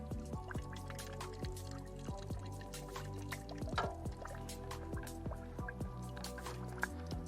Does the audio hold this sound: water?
yes